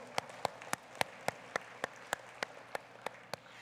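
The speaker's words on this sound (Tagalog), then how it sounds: "Atong tago palakpak ang Dios igsoon" Church congregation at a Sunday service clapping in unison, a steady rhythmic beat of about a dozen sharp, evenly spaced claps over a faint background hum.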